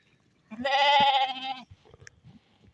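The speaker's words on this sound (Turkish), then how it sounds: "bu kuzuları annelerinden ayıracağız" A single loud, wavering bleat from a nearby lamb or sheep, lasting about a second, followed by faint rustling, as lambs are separated from their mothers.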